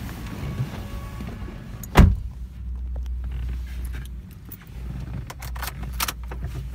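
A 2015 Toyota Vios G 1.5 automatic on a test drive: a single sharp clunk like a door or key handling, then a steady low engine and cabin hum with faint clicks.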